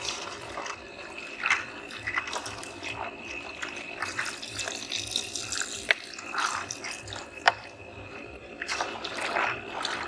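Water poured into a pan of dried-out chole masala with peas, chickpeas and potatoes, a steady close splashing trickle with small clinks of utensils, no talk over it.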